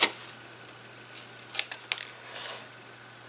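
Scissors cutting out a paper flower for card making, a series of crisp, close snips with quiet pauses between them.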